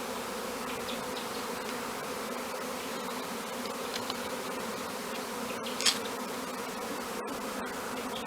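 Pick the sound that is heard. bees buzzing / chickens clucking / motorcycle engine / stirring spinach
bees buzzing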